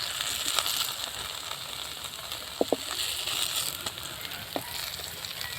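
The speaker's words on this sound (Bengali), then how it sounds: "দেখুন বন্ধুরা কত সুন্দর লাল করে ভাজা হচ্ছে" Mushroom and lentil fritters with spring onion deep-frying in oil, a steady bubbling sizzle close by with a couple of brief clinks, no talk.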